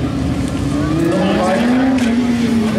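A Honda Hornet motorcycle engine drones loud and steady during a motogymkhana championship heat, its pitch slowly climbing as the rider accelerates, with a voice talking over it.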